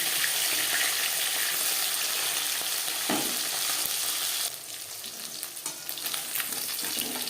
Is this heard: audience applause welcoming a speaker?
no